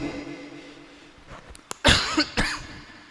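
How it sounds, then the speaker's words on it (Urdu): A few sharp coughs close to the microphone, two loud bursts after a couple of small throat sounds, against a quiet room hum. "ذرا پانی لا دیں، کھانسی ہے"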